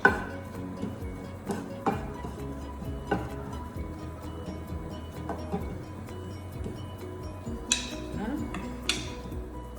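Almonds being stirred as they caramelize in a pan, with scattered clinks and scrapes of a utensil against the pan and a few sharper taps, close and fairly soft over a faint background hum.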